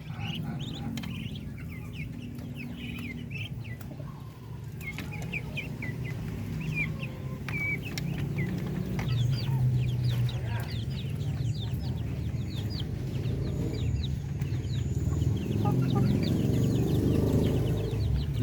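Darag native Filipino chickens cluck softly and repeatedly in a pen being disinfected, with faint murmuring voices and low background noise throughout.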